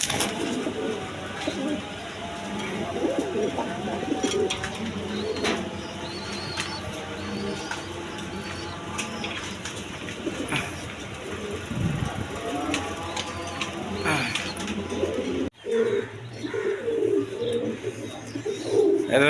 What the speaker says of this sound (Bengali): এটা রাসগোল্লা মাদি কবুতর